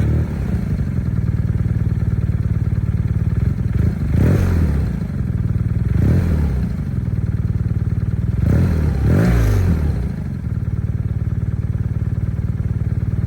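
A 2023 BMW R NineT Pure motorcycle with a factory-fitted Akrapovic slip-on exhaust idles with a steady, loud boxer-twin rumble, punctuated by several sharp throttle blips around the middle of the clip before settling back to idle.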